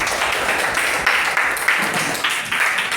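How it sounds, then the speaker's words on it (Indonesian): Students at a classroom guidance session at SMA 13 Ambon applaud, clapping that rises and falls in uneven bursts throughout, with speech faintly mixed in. "Luar biasa, tepuk tangan."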